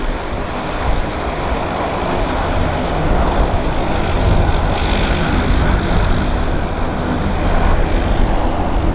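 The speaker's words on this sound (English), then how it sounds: "Got a WestJet rolling." A WestJet airplane rolling on the runway at Vancouver YVR airport, a loud, broad, steady engine roar that swells slightly and holds for the whole stretch, with no other distinct sounds.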